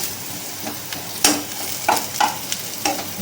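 A paste of garlic, onion and chili stirred into onions frying in oil, giving a steady sizzle with several sharp scrapes and spatula knocks against the pan.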